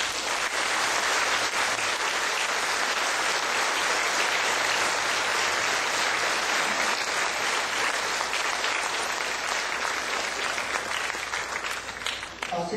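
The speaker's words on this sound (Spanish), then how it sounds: "Vamos a darles un caluroso aplauso" A congregation at a patronal feast Mass for San Jerónimo breaks into warm, sustained applause, a thick continuous wash of many hands clapping that stays loud and even for the whole stretch, with faint voices underneath.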